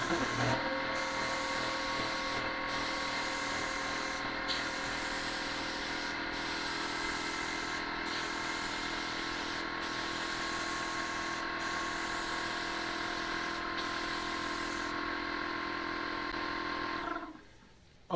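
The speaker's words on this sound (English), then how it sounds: "as long as I'm doing my thing and spraying, and the compressor can supply the 27 psi, it's meeting my needs" Small roofing-and-siding air compressor runs steadily with a rhythmic mechanical hum while a paint spray gun hisses continuously, close and even for most of the stretch before cutting off abruptly near the end.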